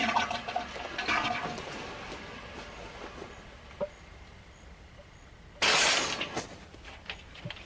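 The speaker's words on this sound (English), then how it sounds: "The flushing of the toilet is off, opening the paper around the package." In a film scene, an offscreen toilet flush rushes in as a sudden loud burst of water that swells and fades after a stretch of quiet rustling and faint room noise, with a few small knocks around it and no voices.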